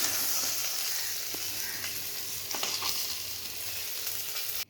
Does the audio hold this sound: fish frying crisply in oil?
yes